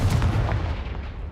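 A Confringo fire spell blast in the video game Hogwarts Legacy fired at a pile of blocking debris, a single loud booming burst that rolls off quickly into a fading rumble.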